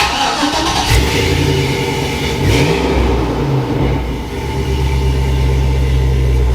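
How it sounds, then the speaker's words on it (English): An LS-swapped Chevrolet C10 pickup engine cranks over and catches, then revs up and drops back to a loud, steady idle, close by with no talking. "I'm gonna crank it up, but I'm gonna cut it off real fast"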